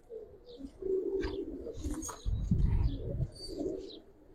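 Old-breed green-necked Giribaz pigeons coo nearby in soft, throaty rolling phrases, several overlapping calls rising and falling over a few seconds.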